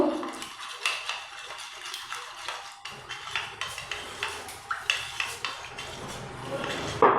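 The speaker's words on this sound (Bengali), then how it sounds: "এখন সব কিছু দিয়ে খুব ভালোভাবে মিশিয়ে নেব।" Manchurian sauce of tomato sauce and cornflour being mixed in a bowl, heard as a steady run of close spoon clinks and scrapes against the dish with a faint wet swish.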